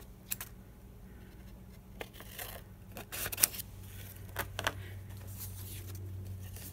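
Scissors snipping paper to make a paper film strip for a journal, a few quiet, scattered clips and rustles at close range.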